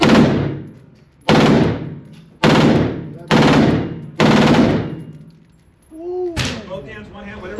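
Guns firing at the Battlefield Vegas shooting range: five loud, sharp blasts at roughly one-second intervals, each with a long ringing decay, followed by a brief voice and another shot.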